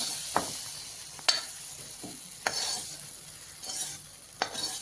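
A thick spice paste hits a hot pan with a sizzle while making yogurt curry, then a utensil scrapes and stirs in several sharp strokes over steady frying.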